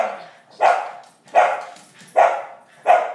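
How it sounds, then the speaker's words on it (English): A dog barks four times close by in an even, spaced rhythm, each bark loud and sharp, with a faint voice briefly in the background. "Sorry, those are the dogs."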